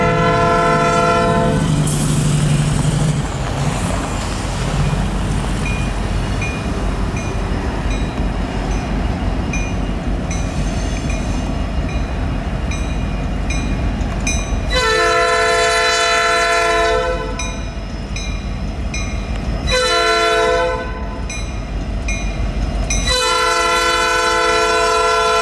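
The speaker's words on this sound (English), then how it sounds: "Canadian National is just now rounding the curve." A Canadian National freight train rounds a curve at a railway milepost with a steady heavy rumble of rolling cars, while its horn blasts loudly in several long, separated calls.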